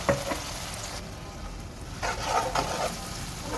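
Ginger and garlic sizzle in a hot pan with scattered crackles and a few louder bursts of spitting, close by, with no talking.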